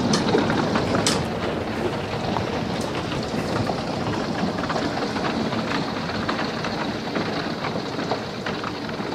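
Golf-ball-sized hail pounds down outside a window during a violent storm, a dense, steady roar of impacts with sharper cracks scattered through it, loud and continuous with no voices.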